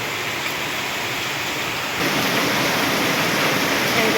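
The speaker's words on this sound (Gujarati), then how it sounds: "એટલો અનરાધાર વરસાદ આવ્યો" Heavy monsoon rain pours down in a steady, dense roar over a flooded courtyard, loud and continuous, growing slightly heavier partway through, with no voices.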